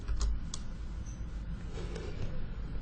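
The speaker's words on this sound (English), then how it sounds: "You just ignore the message by pressing enter in your keyboard" Someone presses Enter on a computer keyboard during SAP software work, giving a few sharp plastic clicks spread over a few seconds against quiet room noise.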